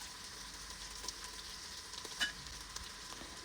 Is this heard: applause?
no